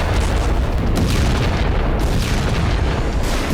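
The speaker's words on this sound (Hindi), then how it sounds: "इजरायल ने खान यूनिस इलाके पर जबरदस्त बमबारी शुरू कर दी है।" Heavy bombardment in Khan Younis during the Israel-Hamas war, heard as a continuous loud, rumbling roar of blasts with dense low booms and no clear gaps between them.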